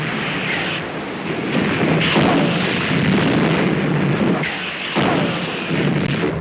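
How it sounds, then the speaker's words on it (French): Artillery shells pound the Maginot Line forts in a heavy bombardment, a sustained roar of rumbling booms that swell and ease in waves, loud and continuous. "les forts sont quotidiennement en proie aux attaques massives de l'artillerie, de la Luftwaffe et des troupes de choc"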